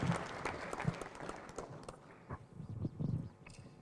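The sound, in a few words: audience clapping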